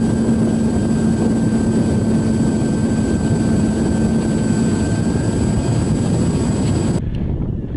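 Electric motor of an E-Flite Apprentice 15e RC airplane in flight, a steady whining drone with a constant tone lasting about seven seconds, heard from the aircraft with wind noise, then cutting off abruptly near the end.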